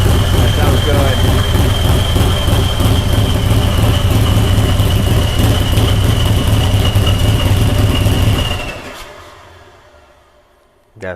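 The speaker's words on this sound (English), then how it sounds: "It's got to be one of the coolest sounding Harleys out there" A turbocharged Harley-Davidson motorcycle engine runs loud and steady, close by, with a rough pulsing throb and a high whine for about eight seconds before it cuts off, leaving a faint quiet tail and a brief knock at the end.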